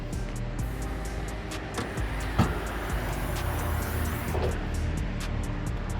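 A 2011 Hyundai Genesis Coupe with a naturally aspirated 3.8-liter V6 runs steadily with a low, even hum and occasional faint clicks, heard up close without talking.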